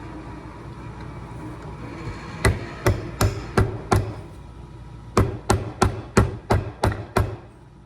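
Sharp, evenly spaced knocks in two quick bursts, about five then six strikes, ringing out over a steady background hum.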